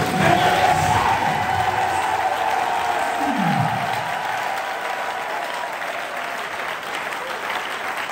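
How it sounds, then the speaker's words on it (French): A church congregation bursts into loud applause and cheering that gradually settles to a steadier clapping, a dense crowd sound close by throughout. "J'ai besoin qu'on acclame de Jésus"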